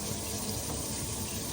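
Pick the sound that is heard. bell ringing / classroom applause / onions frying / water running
water running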